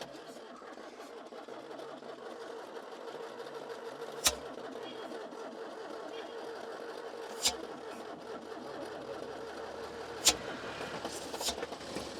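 A Mahindra Bolero starts cold after standing unused for three years. The engine settles into a steady, low, rumbling idle, broken by a few sharp, isolated knocks or clicks.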